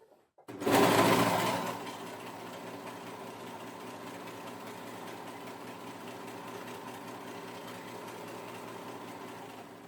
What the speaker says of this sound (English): you're then going to sew down the sleeve and then the side